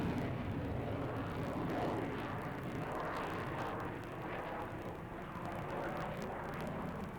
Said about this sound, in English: Aviation Week captured this rare night flight rehearsal of the Soviet fighter.